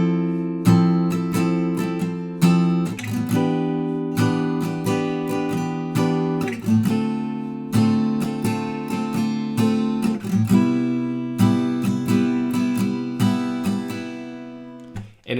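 Acoustic guitar strumming a four-chord progression from a song with no capo, steady rhythmic strums ringing out clearly and alone for the whole stretch.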